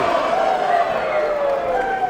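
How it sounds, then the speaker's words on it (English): Packed capacity crowd at a wrestling match cheering and roaring continuously, a dense loud wash of voices with rising whoops throughout. "Listen to this crowd."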